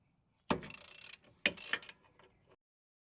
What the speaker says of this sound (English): grab a 17mm socket and use it to break free the top and bottom bolts holding your caliper in place